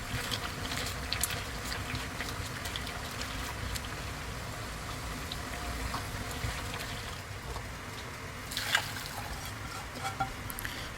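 A pot of water boiling on the stove to blanch thin rice noodles, a continuous close bubbling and rushing hiss with small pops and splashes throughout.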